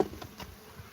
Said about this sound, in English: There's still a few bees in here.